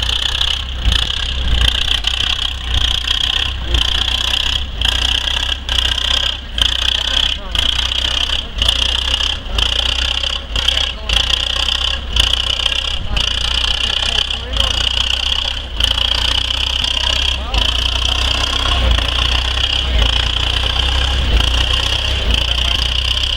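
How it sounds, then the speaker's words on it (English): Vintage Oliver 99 tractor engine at the Humboldt tractor pull, a loud steady roar with rhythmic pulsing under constant crowd and announcer noise throughout. "The Oliver 99 storms the track at the Humboldt tractor pull, proving the old irons still got serious muscle."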